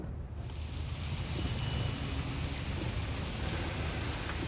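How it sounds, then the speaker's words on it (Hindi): Heavy rain falls steadily on surfaces, a dense continuous hiss that swells in at the start and holds at an even, fairly loud level with no talking. "अरे वाह, बारिश।"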